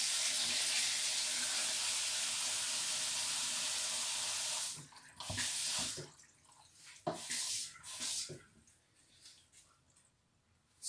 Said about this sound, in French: De l'eau chaude.